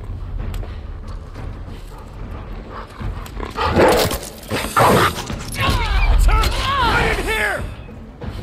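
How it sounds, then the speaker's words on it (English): Hostile dogs bark in The Last of Us Part 2 Remastered, several sharp, close barks and growls bursting out in the second half over mechanical creaks and game ambience. "Dogs."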